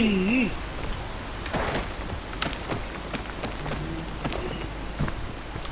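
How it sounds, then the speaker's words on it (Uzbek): Steady rain pours down in the video game PEAK, a dense, even patter close around the listener, with a brief voice-like tone at the very start. "Yomg'ir bo'lyapti, sirg'anadi, aytib qo'y."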